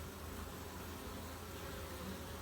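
Honeybees buzzing around busy hives in early spring, a steady dense hum that fills the air without a break, fairly close.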